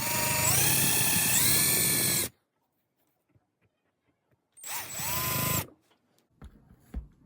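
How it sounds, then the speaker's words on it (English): A small power drill whirs in two bursts while drilling eye sockets into a fishing lure body, its pitch rising as it bites into material, separated by a quiet pause with faint handling clicks. "I'm going to drill out eye sockets"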